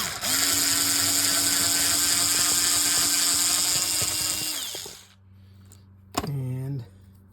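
A part is unscrewed from an Olympic Spark VO 1800 fishing reel during a carbon fiber drag washer upgrade. A steady mechanical whir with fine ratcheting clicks runs close and loud for several seconds, then stops before a brief tonal sound.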